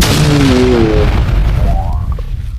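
A loud, close explosion effect in a manhwa story recap: a deep sustained rumbling roar with a sweeping tonal whoosh, fading slightly over a couple of seconds.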